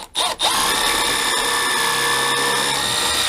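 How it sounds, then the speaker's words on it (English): Power drill running steadily, countersinking screw holes in decking boards for a window box, a short burst then a continuous loud whine close by. "Now countersinking roughly over here."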